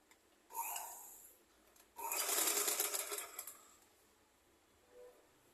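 A sewing machine stitches fabric for a child's umbrella skirt in two close bursts, a short run followed by a longer steady whir, with quiet pauses between them.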